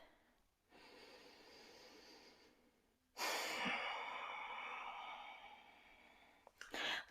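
Slow, audible breaths while holding a hip-flexor yoga stretch: a soft, drawn-out inhale, then a louder, longer exhale, and a short quick breath at the end, all close and with no speech.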